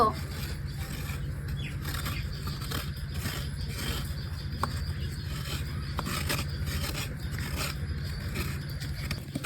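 Fresh white coconut being grated by hand for a village palm-fruit barfi, giving a steady close rasping and scraping that runs continuously with a regular rhythm, with no talking over it.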